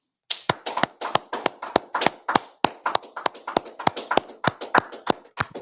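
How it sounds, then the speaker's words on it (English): Steady rhythmic clapping from a small audience after a religious class, crisp close handclaps repeating evenly for several seconds with no talking. "Let's clap it up."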